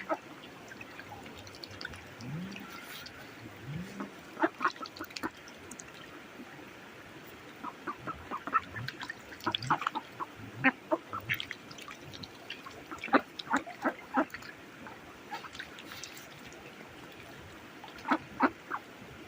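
Scattered bird calls and splashy clucking sounds come and go against a low outdoor background, with irregular bursts of activity throughout.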